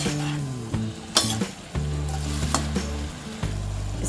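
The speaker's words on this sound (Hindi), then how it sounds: "मूली को हम 2 मिनट तक लो फ्लेम में फ्राई करेंगे।" Chopped radish fries on a low flame with a close, continuous sizzle, broken by several sharp metallic clinks and scrapes of stirring in the pan.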